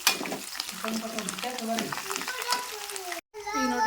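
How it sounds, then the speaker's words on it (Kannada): Curry leaves fry in hot oil while being stirred: a close, steady crackling sizzle with scraping stir sounds throughout. A brief silent break comes near the end before the sizzle returns. "ಕರ್ಬೇವು ಹಾಕ್ಬಿಟ್ಟ ಇವಾಗ ತಿರುಗತ್ತೀನಿ ರೀ"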